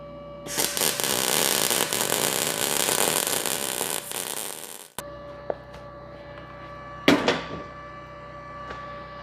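MIG welding with an ArcCaptain MIG200 welder, a loud continuous crackling, buzzing arc for about four seconds that stops abruptly, followed by a quiet hum and a couple of brief metallic clanks.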